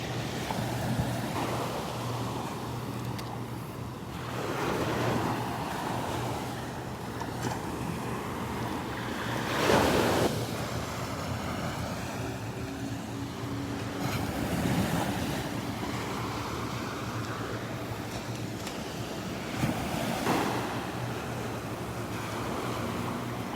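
Rough surf and choppy water at Delnor-Wiggins beach on a morning with boats heading out, a steady wash of waves with periodic louder breaks every few seconds, mixed with wind noise on the microphone and a distant boat engine hum.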